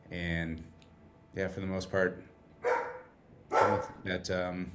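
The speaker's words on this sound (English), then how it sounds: "Excuse the dogs, by the way." Several dogs bark in short bursts in the room behind a person talking, with the yaps coming in clusters throughout.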